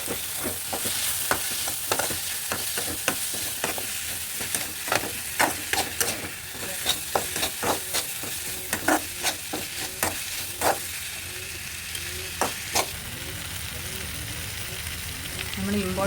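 Capsicum and tomato being stir-fried for a Kerala chicken perattu, a steady close sizzle broken by sharp irregular scrapes and clinks of a spatula against the pan, with no talking.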